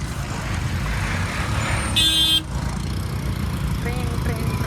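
Busy road traffic, with a steady rumble of cars and trucks and one loud car horn blast midway, heard up close with faint voices in the background.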